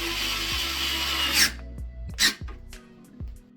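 A HOTO 3.6V electric screwdriver drives a screw at its lowest torque setting, a loud whirring burst followed by several short motor pulses with clicking pauses between.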